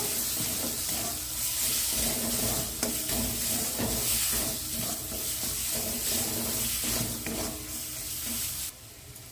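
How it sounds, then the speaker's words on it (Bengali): Masala with coriander powder, cumin powder and salt fries in a pan for a Bengali prawn malaikari, a moderate hissing sizzle with soft repeated stirring scrapes, steady throughout and fading slightly at the end, no voices. "এবার আমি মশলাটা ভালোভাবে কষিয়ে নেব"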